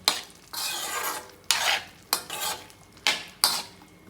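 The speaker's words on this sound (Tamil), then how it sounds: "நல்லா இந்த உருளைக்கிழங்கு வேகிற வரைக்கும் அடிக்கடி அடிக்கடி பெரட்டி விடணும்" A spoon scrapes and clatters through a potato pepper fry in a pan over a medium flame, in a series of loud, close stirring strokes with faint sizzling underneath and no voices.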